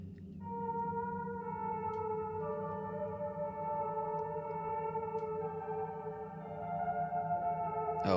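A slow, soft melody plays in the Fatal Frame IV horror video game, with sustained tonal notes stepping between pitches over a low humming drone, steady and alone without speech.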